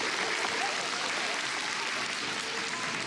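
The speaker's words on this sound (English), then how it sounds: "You want to welcome him with a big hand of applause." Audience applause welcoming a performer and his contortionist partner at a trick-shooting show, a dense continuous wash of clapping at even loudness from start to finish.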